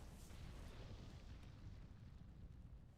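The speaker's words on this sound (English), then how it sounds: "Meteor to stun." A Meteor spell impacts in World of Warcraft, a dense, rumbling explosion-like blast that stays loud and roaring for a few seconds before easing slightly.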